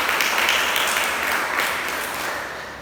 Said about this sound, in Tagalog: Pumalakpak ang nagay Kristo.